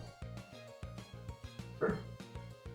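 Bentley the dog barks in repeated short bursts at a steady rhythm over looping background music from a Roblox Loomian Legacy game, moderately loud and fairly close.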